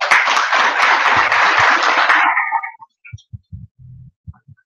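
Audience at a KU event breaks into a dense, loud burst of applause that fades out after about two and a half seconds, leaving a few scattered low thumps.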